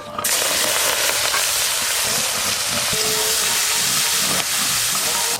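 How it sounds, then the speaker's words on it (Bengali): Shrimp fry in hot oil left from frying fish, a loud, close, unbroken sizzle and hiss that runs steadily throughout with no talking. "ওই একই তেলে চিংড়ি মাছগুলোও ভালো করে ভেজে নেব।"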